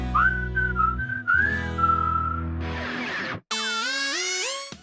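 A whistled melody rides on top of a catchy Cartoon Network rock theme, backed by guitar and drums. The whistling is loud and up front, sliding between notes in several phrases.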